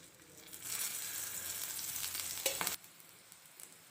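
Ragi snack frying in oil in a pan, a steady bright sizzle that swells and holds, then cuts off abruptly partway through, leaving faint scattered crackles.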